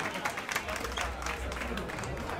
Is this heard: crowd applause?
yes